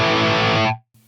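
A distorted electric guitar run through a Marshall JCM 800 amp model on an Axe-Fx III rings out as a single loud, sustained chord, then cuts off sharply before a brief quieter note.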